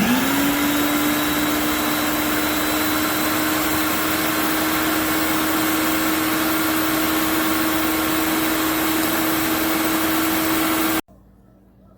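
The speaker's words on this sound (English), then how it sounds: "Blend it up, mix it, and it's going to, you're gonna mix this until it is smooth" A blender runs steadily and loudly, whirring strawberry cheesecake filling for a keto frozen dessert, holding one even motor pitch for about eleven seconds before cutting off abruptly.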